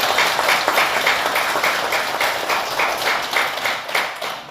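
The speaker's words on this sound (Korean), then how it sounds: "환영의 큰 박수 보내주시기" An audience at a Buddhist temple dharma service gives a big round of welcoming applause, loud and sustained clapping from many hands with a faintly pulsing rhythm that carries evenly throughout.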